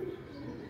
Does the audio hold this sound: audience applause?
no